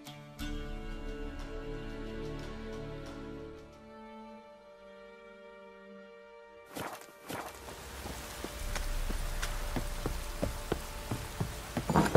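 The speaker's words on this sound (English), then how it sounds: "Looks like rain." A held musical tone fades out, then steady rain begins in The Witcher III: The Wild Hunt, a broad hiss with patters and scattered heavier drops growing louder toward the end.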